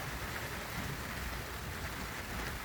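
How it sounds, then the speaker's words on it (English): Rain falls steadily at night in Pearl City, Honolulu, during a thunderstorm, a dense continuous hiss of drops on surfaces with a low rumble beneath and no talking. "Yeah, it's raining."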